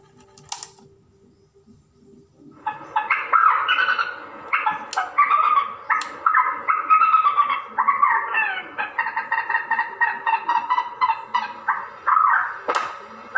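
Chirping bird calls played back through a cassette tape deck, a dense run of rapid, bright repeated notes starting after a short quiet hiss and continuing steadily to the end, with no voices.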